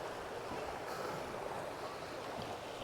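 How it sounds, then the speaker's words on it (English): Water runs out of a canal lock at Foxton Locks, a faint, steady rushing wash heard from a little distance, continuous and even with no voices over it. "the water coming from that lock, is going into here"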